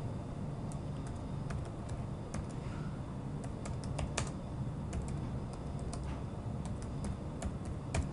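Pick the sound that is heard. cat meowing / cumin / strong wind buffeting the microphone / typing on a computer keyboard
typing on a computer keyboard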